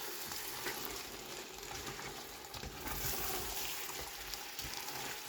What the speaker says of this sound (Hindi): बस अब 2-3 मिनट भिंडी के साथ थोड़ा सा इसको फ्राई करें, भूनेंगे।